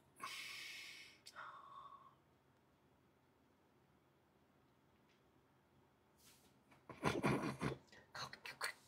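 Loud sniffs close into a sensitive microphone, a sharp breathy burst at the start followed by a quieter one, then a cluster of heavy snorting sniffs near the end with a pause between.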